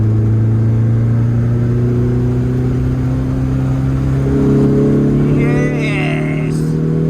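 A Lotus Elan restomod with carburettors drives on an open road at low revs, its steady, loud engine drone heard from inside the car, with a brief rise in pitch partway through.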